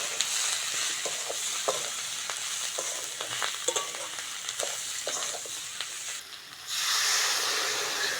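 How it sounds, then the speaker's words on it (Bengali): Potatoes, onion and nigella seeds frying with spices: a dense, close hiss of frying under repeated clicks and scrapes of stirring, and a brief lull before the sizzle surges louder near the end. "আলু পেঁয়াজ কালিটা ভালো করে ভেজে নিয়েছি"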